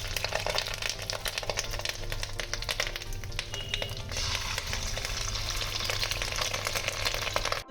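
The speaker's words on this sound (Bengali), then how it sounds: "আমি বড়াটা ভাজবো হচ্ছে সাদা তেলে" Fish roe fritters fry in white oil in a wok, giving a dense, steady sizzle with crackling and spattering that holds loud and close throughout, with no talking.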